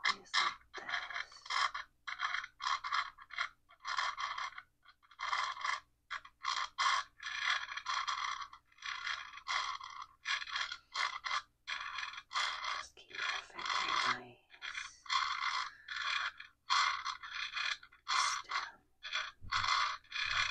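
In an ASMR roleplay, a saw is drawn back and forth across a finger. Close, quiet scraping strokes repeat in a steady rhythm with short pauses between bursts, and no talking.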